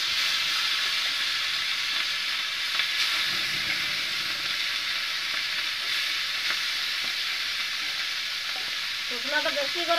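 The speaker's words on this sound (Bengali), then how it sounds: "তেল দিয়ে আর ওই মাছকে আমি এইভাবে ভাজিয়ে নেবো" Small chuna fish frying in oil in an overheated pan, a loud, steady hiss of sizzling with occasional stirring scrapes and a brief voice near the end.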